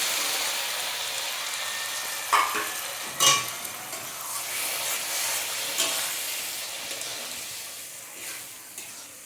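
Fried fish heads and boiled mung dal being stirred in a pan, with a steady sizzle and a few louder scraping clatters of the spoon, close and without talk.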